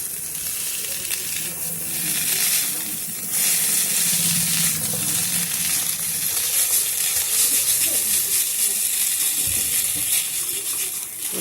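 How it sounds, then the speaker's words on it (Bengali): Boiled Maggi noodles being stir-fried in a pan with vegetables and egg for an egg Maggi masala: a steady close sizzle and hiss with scraping stirring sounds throughout. "ম্যাগিটা দিয়ে সবজি আর ডিমের সাথে ভালো করে নেড়ে চেড়ে আমি মিশিয়ে নেবো"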